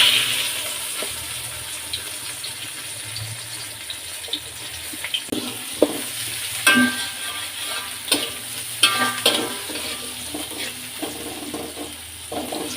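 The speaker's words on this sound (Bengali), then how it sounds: "ভেজে রাখা মাছের তেলের মধ্যে আমি এখন পেঁয়াজগুলো দিয়ে দিব" Sliced onions sizzle in oil left over from frying chapila fish, a steady broadband fry with intermittent spoon scrapes and clinks against the pan, close and moderately loud with no voices.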